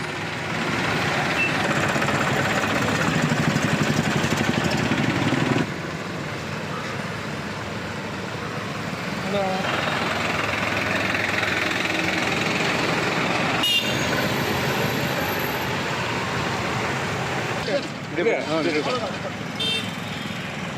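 Tractor engines rumble and drone in a farmers' tractor rally protesting the central government in Vathalagundu, with heavy motors passing nearby in waves, one brief beep and a hiss, under continuous news narration.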